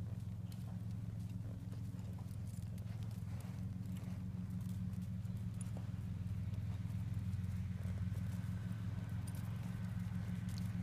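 A horse walks around a riding circle, its hooves clip-clopping in a steady, faint rhythm beneath a loud constant low hum.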